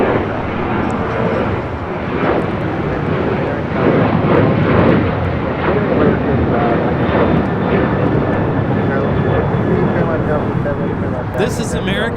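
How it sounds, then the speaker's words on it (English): American Airlines Boeing 737-800 taking off from LAX, a loud sustained jet roar that swells and rumbles across the whole stretch, with talk faintly present beneath it. "This is American Airlines 1979 taking off to Chicago O'Hare on a 737-800."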